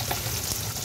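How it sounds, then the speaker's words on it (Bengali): Chopped onions fry in hot oil with a steady, dense crackling sizzle, close and continuous for under a second. "এখন এটার মধ্যে প্রথমে আমি একটু কুচনো পেঁয়াজ দেব।"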